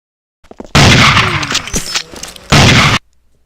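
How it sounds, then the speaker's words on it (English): Gunfire in the video game 007 Nightfire, a loud close burst of rapid shots lasting nearly two seconds, then a brief gap and a second short burst, with no talking. "So here we have me shooting at nothing and getting a kill somehow."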